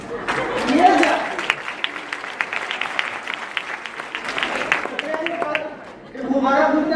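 A burst of clapping and applause from an audience at a speech, steady for several seconds and swelling again at the end, with voices mixed in.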